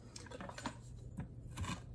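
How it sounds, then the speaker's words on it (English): Fresh ginger is peeled and roughly chopped on a board, giving soft scraping and rasping strokes with a few light knife taps, close and quiet. "I'm just going to peel and rough chop a little bit of ginger here"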